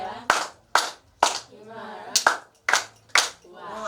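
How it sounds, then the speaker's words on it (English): Single sharp claps ring out in a classroom workshop, about seven separate slaps spaced roughly half a second apart, each crisp and close with short decaying tails, and a voice speaks between them. "Clap your hand for him."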